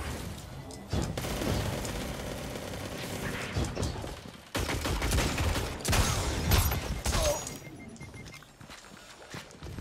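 Rapid gunfire from a hard-to-handle gun in Destiny 2 PvP, loud bursts of sharp shots in clusters, with brief pauses between volleys and busy game effects underneath.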